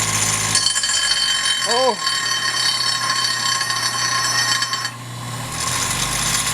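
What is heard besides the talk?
angle grinder grinding down turbo fitting metal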